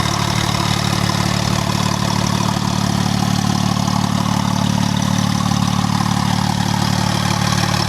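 The twin-turbo flat-six of a 2008 Porsche 911 Turbo (997) idles with a steady, loud, even rumble that holds throughout without revving or talk.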